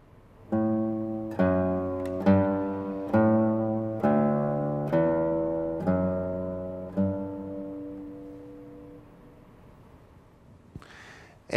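A classical guitar plays the low bass line of a Bach fugue on its own, about eight plucked notes in a steady stepwise rhythm. Each note rings and decays, and the phrase fades out at the end.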